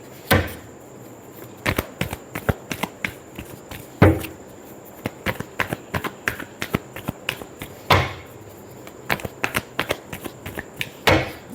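Tarot cards are shuffled by hand in quick riffling runs of sharp, crisp snaps, repeated in bursts with brief pauses, close-up and alone.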